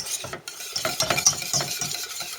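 Cheese being stirred into an aubergine and courgette stuffing in a pan, with soft repeated scraping and squelching strokes over a light sizzle, close and fairly quiet.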